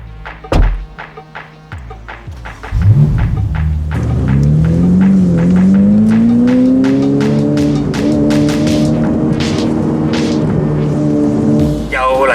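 A Ferrari F8 Tributo sports car pulls away after a thud at the start, its engine revving up into a loud, sustained rising roar with brief tyre squeal, heard close up.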